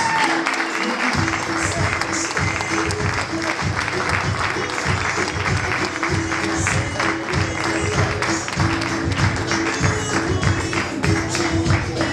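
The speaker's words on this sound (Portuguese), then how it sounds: "Demos un forte aplauso a Lucas." Sustained loud applause from a birthday party crowd celebrating Lucas, dense steady clapping that carries on throughout with cheering voices mixed in.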